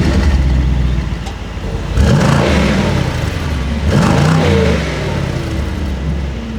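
A 2022 Mercedes SL 63 AMG engine in comfort mode with the exhaust valve closed: a close, muffled idle rumble that swells through two short revs and drops back to a steady burble.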